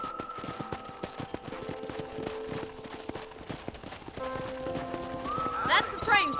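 A horse's hooves clip-clop at a steady trot in the Red Dead Redemption video game, close and rhythmic beneath spoken dialogue and music, with the hoofbeats growing busier toward the end.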